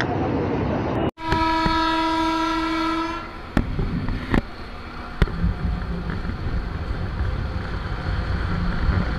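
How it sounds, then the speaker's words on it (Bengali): A Narayanganj commuter train pulling away from a suburban platform, a loud sustained horn blast over heavy rumbling, followed by clanking couplings and a steady roar as it gathers speed. "শহরতলি প্ল্যাটফর্ম থেকে কাঙ্ক্ষিত ট্রেনটি ছেড়ে দিল নারায়ণগঞ্জের উদ্দেশ্যে।"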